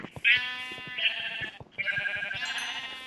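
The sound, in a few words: sheep bleating in a survival video game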